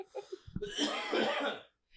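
A single harsh, rasping cough bursts out close by after a few soft breaths, lasting about a second before trailing off into silence.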